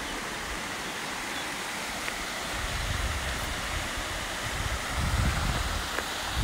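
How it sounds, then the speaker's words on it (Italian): Steady rushing water from a waterfall beside the Via Francigena walking route in Etruscan country, a broad continuous roar heard close by and alone, swelling slightly toward the end. "questa è la cascata che vi ho fatto vedere prima"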